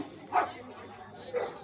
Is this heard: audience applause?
no